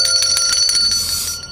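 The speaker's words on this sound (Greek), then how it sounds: "Κάτσε να χτυπήσεις το κουδούνι." A doorbell chimes with bright, ringing tones at a front door during Christmas carolling, sounding close and fairly loud, then decaying over about a second and a half before fading out.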